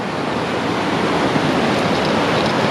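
A river flows past as a loud, dense rush of moving water, steady and unbroken, heard outdoors close to the bank.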